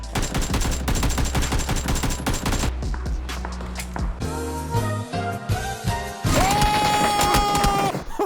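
Gunfire in a first-person shooter video game: rapid loud bursts of shots in steady rhythm, then heavier crashing shots and a rising mechanical tone, dense and continuous.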